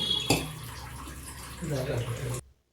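Water is poured into a pan of fried beans, a short splash followed by a steady gurgling pour close by, with faint talk in the background before it cuts off.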